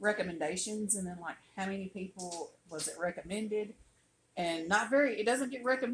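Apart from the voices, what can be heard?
None of the usual background noises is heard.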